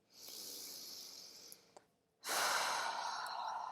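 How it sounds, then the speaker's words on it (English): A long, deep breath drawn in, airy and close, followed by a brief pause and then a stronger, fuller rush of breath. "Deep breath in."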